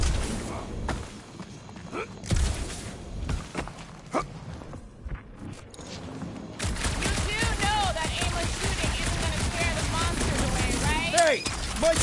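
Rapid, continuous blaster or gunfire in Guardians of the Galaxy, a dense rattling stream that kicks in partway through after quieter scattered sounds, with voices talking over it.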